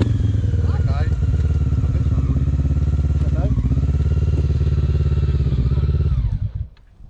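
A Barton 50cc motorcycle engine runs loud and close with a steady buzzing drone that holds firm, then sputters and dies away near the end.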